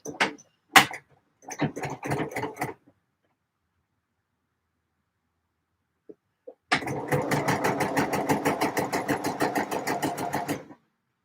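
A sewing machine stitching a shirt runs in short rattling bursts, stops for a few seconds of silence, then hums through a longer steady run of rapid needle strokes, close and fairly loud.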